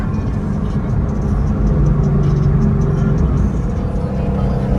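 A Shelby GT350 engine drones steadily while driving, loud and close, a continuous low rumble from inside the car.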